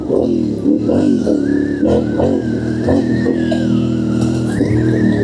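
Car driving through deep forest mud, its engine revving and whining steadily as the tires slip and slide, loud and close throughout.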